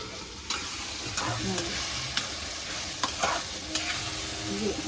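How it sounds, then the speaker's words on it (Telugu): Tomatoes, green chillies, onions, mint, coriander and fresh coconut frying for chutney, a steady sizzle with a handful of distinct spoon scrapes spaced about a second apart, close by. "టమాటాలు పచ్చిమిరకాయలు ఉల్లిపాయలు ఇంగ వేసాను కరేపాకు పుదీనాకు కొత్తిమీర పచ్చి కొబ్బరి వేయించాను"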